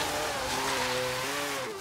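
A car drifting in the racing game Forza Horizon 3, a sustained engine whine with sliding tire squeal for under two seconds, loud and close, no voices.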